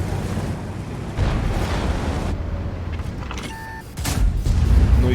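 Heavy booming blasts rumble through the clip, a deep cannon-like report of the Ho-Ri 3 Japanese tank destroyer's gun in a video game, followed by another loud burst near the end, with game-like tones between.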